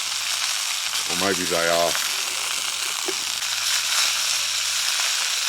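Sausages from Donohue Quality Meats in Benalla sizzle in a pan with a steady, close, broadband hiss; a person talks briefly over the frying partway through.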